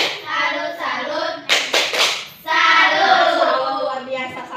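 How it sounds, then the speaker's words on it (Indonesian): Classroom group doing the Indonesian rhythmic 'tepuk salut' clap, short patterned bursts of hand claps between stretches of voices chanting along. "untuk semuanya coba tepuk salut"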